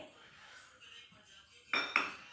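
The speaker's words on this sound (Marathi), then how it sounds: "पिठी साखर व्यवस्थित मिक्स करून घ्यायची तेलामध्ये" Utensil clinks against a bowl as powdered sugar is stirred into oil for an eggless wheat-flour chocolate cake, quiet scraping followed by two sharper metallic taps near the end, no talking.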